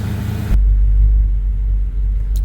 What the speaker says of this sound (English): I'm just kind of letting the truck run for a few minutes